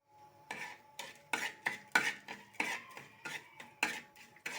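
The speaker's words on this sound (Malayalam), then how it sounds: "നമുക്ക് കുറച്ച് പഞ്ചസാര മെൽറ്റ് ചെയ്യാം" Sugar melting in a pan while a metal spoon scrapes and knocks against it in a steady rhythm, about a dozen close strokes with faint sizzling between them.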